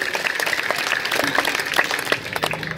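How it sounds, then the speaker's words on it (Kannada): An audience at a religious discourse in Basapura claps, a dense, steady patter of many hands that rises and falls slightly and lasts the whole moment, fairly loud and without speech over it. "ನೀವು ಮುಗಿಸ್ರಿ ಅಂತ ಚಪ್ಪಾಳೆ ಹೊಡೆದ್ರು, ಹೇಳ್ರಿ ಅಂತ ಚಪ್ಪಾಳೆ ಹೊಡೆದ್ರು"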